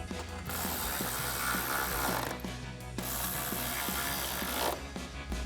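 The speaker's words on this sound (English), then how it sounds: "We're gonna grab our ratchet and 10mm socket," Ratchet with a 10mm socket tightening bolts on a 2021-2023 Ford F-150 during a headlight install, rapid close clicking in several bursts over a faint background hum.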